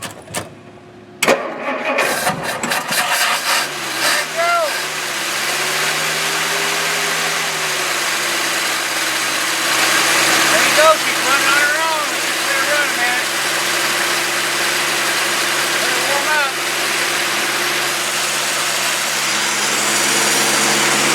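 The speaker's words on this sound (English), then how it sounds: "the engine's all warmed up and it's running like purring like a kitten" A 1946 Dodge Business Coupe engine with a rebuilt carburetor turns over and catches, then settles into a steady idle that runs on continuously, with a person speaking briefly at the start.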